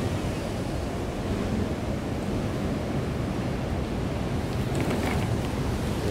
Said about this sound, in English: I've never seen the waves like this.